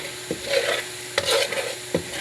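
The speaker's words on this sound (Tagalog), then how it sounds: "Gagatain lang yung dalawang yung niyog tapos Kukuloy ng matagal hanggang sa maging ganito." Coconut milk simmering down into homemade cooking oil sizzles steadily in a pan while a utensil stirs it, with a few short scraping knocks against the pan.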